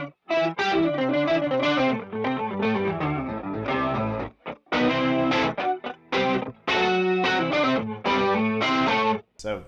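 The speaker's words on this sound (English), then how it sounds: "A bit crusher type sound." An electric guitar run through a bit-crusher style effect from a live rig plays busy, gritty chords and lines, fuzzy and dense with brief gaps between phrases, loud and upfront.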